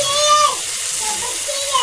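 Mutton keema sizzling on a tawa with ginger garlic added, a steady close frying hiss running throughout without a break.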